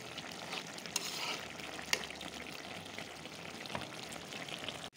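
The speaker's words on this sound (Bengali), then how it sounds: "পেঁয়াজ দিয়া, বড় বড় কই মাছ ভুনা হইতেছে।" Koi fish frying with onions in oil in a pan, a steady, soft sizzle and crackle with a few sharper pops, heard close and alone.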